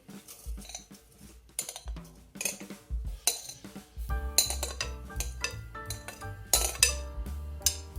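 Easter bread batter with cheese stirred in a bowl, heard as repeated close clinks and knocks of a utensil against the bowl in an uneven rhythm, with background music throughout.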